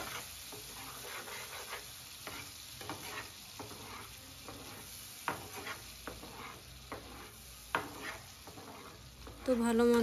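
Mustard-poppy seed paste sautés in hot oil, with a steady sizzle running under repeated scrapes and clatters of a spatula stirring against the pan, close by and continuous.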